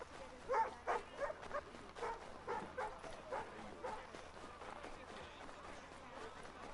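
A dog in Assassin's Creed 3 gives a run of short barks, loudest in the first few seconds and then fading into softer yips over steady ambient game noise.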